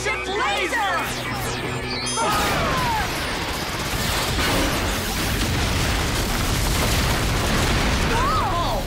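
Sci-fi laser blast from the Skyship in a Power Rangers RPM battle, a dense, loud roar of crashing explosion noise rising sharply and sustained, with shouting voices and whistling effects early on.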